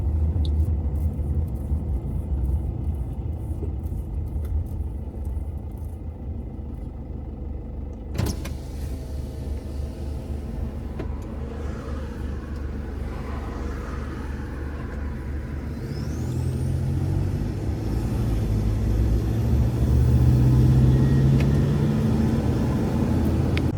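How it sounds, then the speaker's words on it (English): A car drives through small towns in Thailand, its steady engine rumble and road noise continuous and close, swelling louder toward the end with no one talking. "But these little towns are fun to drive in, you know."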